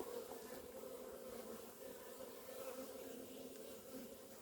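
Honey bees buzz in a dense, continuous drone around an opened beehive, a soft, even hum at low volume with no talk.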